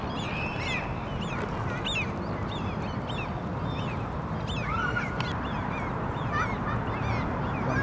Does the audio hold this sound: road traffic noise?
no